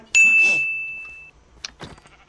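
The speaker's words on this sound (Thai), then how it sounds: "เฮ้ยแกะ" A sheep in the Minecraft video game bleats once, a short wavering cry, followed by a couple of brief clicks, with a thin steady tone ringing beneath it.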